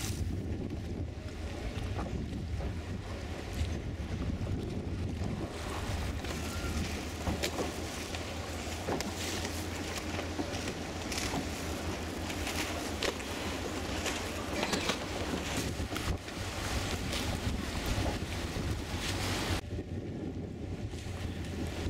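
Gale-force wind buffets the microphone over rough water among Venice gondolas, a loud continuous roar and rumble with gusting swells and faint lapping beneath, no talk.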